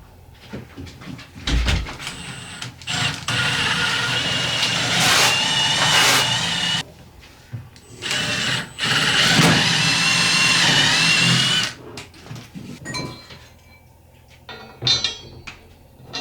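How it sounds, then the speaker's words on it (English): A power drill bores pilot holes during off-grid building work, its motor whining loudly in several sustained bursts of a few seconds each, separated by short pauses and quieter handling noise. "Gotta drill pilot holes."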